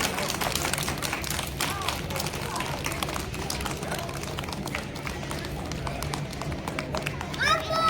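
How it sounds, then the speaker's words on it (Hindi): A crowd at a school annual results ceremony gives dense, sustained applause to welcome guests, with someone talking over the clapping. "जरा जोरदार तालियों से मैं आपका इस्तकबाल करता हूं।"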